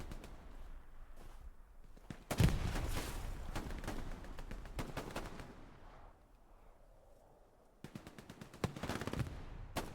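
Scattered gunshots from an 18-versus-18 multiplayer war game match on the Kharkov map ring out in short bursts, some sharp and near, others distant, with a quieter stretch between volleys.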